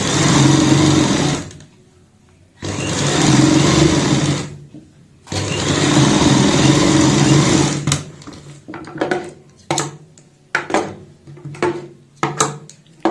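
Sewing machine stitching a fabric hand bag, loud steady motor whirring in three long runs separated by short pauses, then a series of brief stop-start bursts, with no talking.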